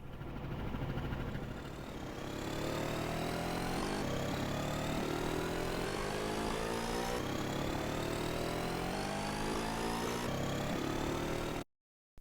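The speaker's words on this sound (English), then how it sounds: "And this moving engine sound is going to change in pitch as we accelerate." Synthesized engine sound effect for a web animation: a steady idle that fades into a moving engine whose pitch climbs as it accelerates, loud and continuous for about eleven seconds before cutting off abruptly.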